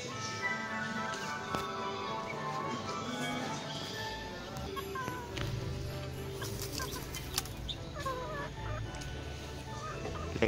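Chickens cluck and squawk inside a chicken coop, a busy overlapping chorus with occasional wing flaps and sharp calls, fairly close and steady throughout.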